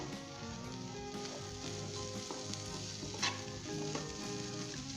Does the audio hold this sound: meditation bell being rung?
no